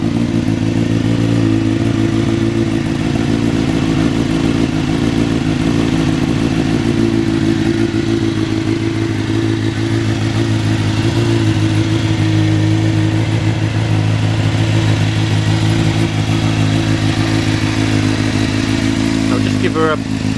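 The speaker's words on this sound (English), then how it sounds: "Give her a blip for you so you can hear the exhaust." A motorcycle engine idling close up, a loud, steady low-pitched exhaust rumble running throughout with a brief throttle blip near the end.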